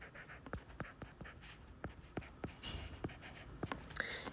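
Marker or pen strokes on a board while working a trigonometry problem, a steady series of short, scratchy taps and squeaks spaced about every half second, close and fairly quiet with no talking.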